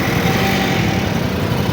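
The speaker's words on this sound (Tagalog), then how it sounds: "Oh, grass cutter na, grass cutter." A gasoline grass cutter engine drones nearby at a steady, loud pitch, running continuously without change and with no voices over it.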